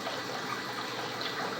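An HW 3000 aquarium pump runs in a fish room tank, giving a steady close wash of churning, gushing water with no break.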